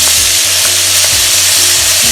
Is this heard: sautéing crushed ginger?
yes